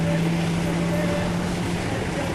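Navy hovercraft from an Assault Craft Unit, powered by four gas turbine jet engines, passing by on the water with a loud, steady broadband roar and a sustained low tonal whine throughout.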